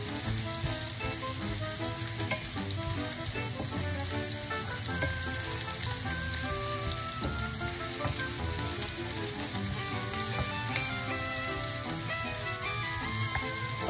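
Onions sauté in a pan for a mixed vegetable stir-fry with shrimp, giving off a dense, continuous sizzle that stays loud and even throughout, with no voices.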